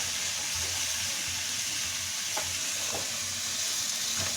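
Spring roll stuffing with soy sauce stirred in a hot pan, a constant even sizzle with a few faint spoon clinks, close and steady.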